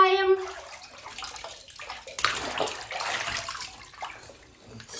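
Water sloshing and splashing in a narrow bathtub as an infant is dipped under during a baby swimming session, with someone speaking gently over the wet churning.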